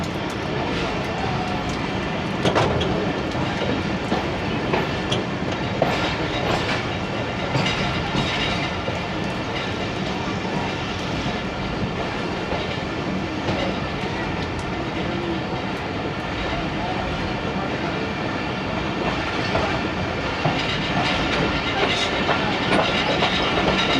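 A train runs along a railway track beside a street market in Hafizabad, Pakistan, a steady loud rumble with clattering wheels and rattling carriages throughout.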